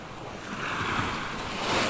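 Ocean swell rushes past a sailboat on passage toward Richards Bay, a broad whooshing wash of water and wind that builds slightly toward the end, with no talking.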